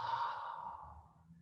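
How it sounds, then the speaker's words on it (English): A deep, breathy exhale during a guided breathing exercise in a fitness class, one long soft out-breath that fades away over about a second and a half, close and quiet with no talking. "Take a nice deep inhale. And exhale."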